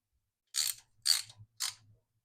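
A ratchet snugs bolts on a Harley Davidson air cleaner in three short, close clicking bursts with brief pauses between them.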